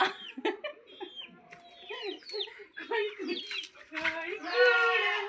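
Chickens cluck and squawk close by, several birds calling in short overlapping bursts that grow busier and louder toward the end.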